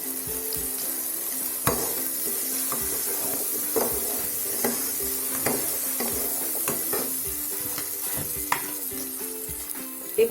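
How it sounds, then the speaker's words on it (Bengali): Potato pieces fry with turmeric in a pan, giving a steady, close hiss and sizzle, with occasional sharp knocks and scrapes of a utensil stirring them; no one speaks. "5 মিনিট লাগবে আলুগুলো ভাজতে।"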